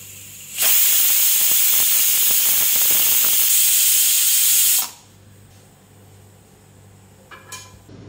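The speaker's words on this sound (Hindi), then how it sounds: "प्रेशर निकाल देंगे इसका, पहले स्टीम वगैरह निकल जाए जब इसको खोलें।" A pressure cooker holding cooked beef vents steam in a loud, steady hiss that starts abruptly, runs for about four seconds, then cuts off, leaving faint kitchen clatter.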